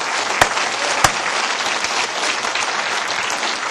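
A large congregation applauds steadily during a religious sermon, a dense wash of clapping with a couple of sharp louder claps near the start.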